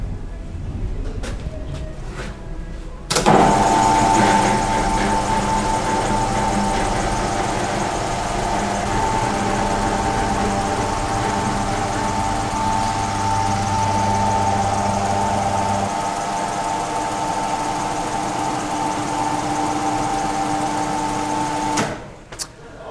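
An electric garage car lift lowers an Alfa Romeo 939 Spider with a 2.2 JTS engine, its motor kicking in abruptly and holding a steady, close mechanical whine and hum for nearly twenty seconds before cutting off.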